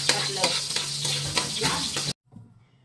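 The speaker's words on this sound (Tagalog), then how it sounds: "Kunting mantika. Ayan, mag-isa tayo ng bawang." Garlic sautés in a little cooking oil in a pan, a loud close sizzle with stirring scrapes that cuts off abruptly into near silence near the end.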